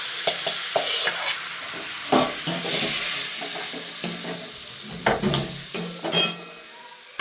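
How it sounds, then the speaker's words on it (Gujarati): Sabudana khichdi is stirred and fried in a pan, with a spoon scraping and clacking against the metal in irregular strokes over a soft, continuous sizzle. "સરખી રીતે આપણે એને હલાવી દઈશું."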